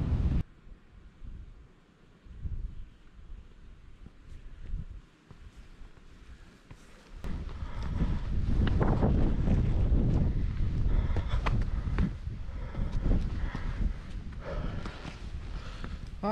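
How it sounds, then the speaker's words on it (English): Strong mountain wind in the Langdale Pikes gusts across the microphone, starting faint and patchy and then rising after about seven seconds into a loud, sustained roar with buffeting rumble. "about to be assaulted by the wind once more"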